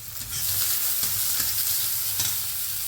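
Potatoes frying with onions in a pan, a steady close sizzle with the soft scrape of stirring running throughout, no voices.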